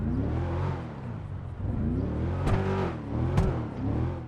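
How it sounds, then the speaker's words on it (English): Drift Yosemite car engine revving in GTA 5 Online, a steady mid-pitched drone rising and falling through several throttle swells, with two sharp bursts of rev near the end, loud and close with no talking. "As for the way the Drift Yosemite sounds"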